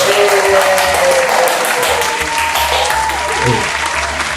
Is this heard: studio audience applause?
yes